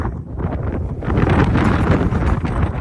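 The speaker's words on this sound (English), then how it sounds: "It's cold and the wind's blowing." Strong wind roars and buffets steadily across the microphone on cold high mountain summits, growing louder and gustier halfway through, with no voices.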